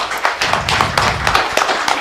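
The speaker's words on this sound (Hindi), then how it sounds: "जयंत कस्तुआर जी के लिए जोरदार ताली।" Loud applause from a theatre audience honouring director Jayant Kastuar on stage after the Hindi play Sakha, dense continuous clapping with sharp hand claps standing out throughout.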